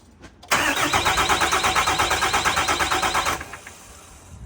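An engine cranks with its fuel injectors unplugged, so it never fires. The starter turns it over loud and close in a steady, fast chugging rhythm for about three seconds, then stops.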